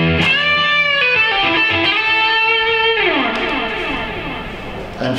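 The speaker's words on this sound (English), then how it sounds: "Now we have our tape echo." An electric guitar through a Blackstar ID amp with tape echo plays a run of bright notes, then the repeats trail off, slightly muffled and fading over several seconds.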